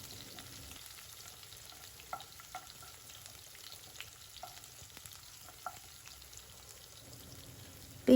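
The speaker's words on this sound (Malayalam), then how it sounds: "ഒരു സവാളൻ്റെ പകുതി എടുത്തിട്ട് ഇതുപോലെ നീളത്തിൽ അരിഞ്ഞ് ചേർക്കുക" Sliced onion and green chilies fry in oil for kayavattan, a quiet, steady sizzling hiss with a few soft clicks and pops, and no voices.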